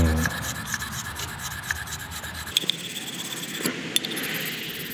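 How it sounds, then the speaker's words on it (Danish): A knife blade is worked back and forth across a wet whetstone coated in grinding slurry, giving a continuous close rasping scrape with a few sharper scratches near the end. No talking. "Den her grød her, den hjælper os til at slibe."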